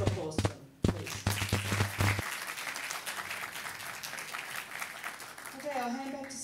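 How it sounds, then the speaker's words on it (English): An audience at a supply chain innovation showcase claps for the presenters, a burst of applause over the first two seconds that thins into scattered clapping and room murmur, with a voice speaking near the end. "Big round of applause for them"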